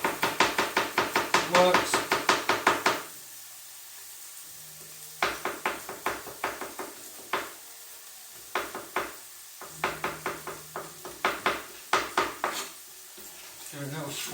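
Knife chopping garlic on a board in a home kitchen, making rapid bursts of crisp, rhythmic taps, close and fairly loud, separated by short pauses, with a few spoken words.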